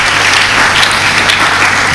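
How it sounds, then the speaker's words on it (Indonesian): Loud, continuous applause from the audience at an Indonesian Islamic primary school graduation, honoring the graduating children; a thick wash of clapping close by, with no speech over it. "Tepuk tangan buat anak-anak kita."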